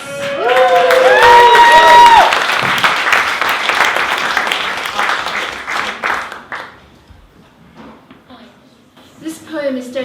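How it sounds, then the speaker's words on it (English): A poetry slam audience bursts into loud, close applause mixed with cheering, holding strong for several seconds before tapering off into quieter murmurs and a few last claps. "Please give a big round of applause for Diana Thomas."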